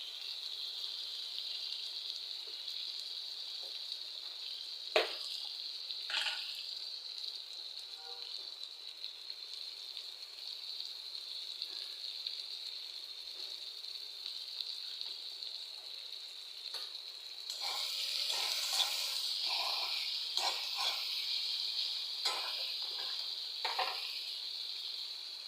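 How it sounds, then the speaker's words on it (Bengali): Onion and garlic fry in a pan with a steady, close sizzle throughout, broken by a few sharp spatters and clicks, growing slightly louder and busier near the end. "এখন পেঁয়াজটা ভাজা ভাজা হয়ে গেছে"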